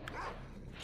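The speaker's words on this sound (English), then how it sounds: "Bad dog." A single dog barks in a video game, two short bursts near the start and end over a low, continuous game background hum.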